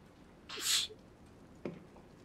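Alice, the young girl in the video game Detroit: Become Human, gives one short, soft sneeze, followed a moment later by a faint muffled thump, against a quiet room background.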